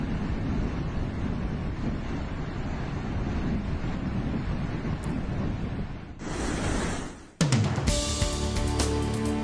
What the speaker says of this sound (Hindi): पानी का बहाव आप देख सकते हैं, कितना तेज पानी का बहाव है